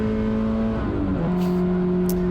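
A 2003 Miata race car with a 2.4L Ecotec engine revs steadily at close range on track, its pitch dipping briefly with a shift before holding a strong, even drone.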